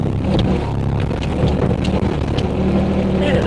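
A digger engine revs hard while digging soil, a continuous loud low rumble with slight fluctuations and wind buffeting the microphone.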